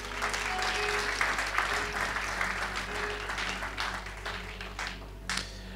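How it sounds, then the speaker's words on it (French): Church congregation applauding the protocol team during a Sunday worship service, a sustained wash of hand clapping from a crowd filling the room, steady throughout with a few sharper bursts near the end. "Acclamons pour le protocole."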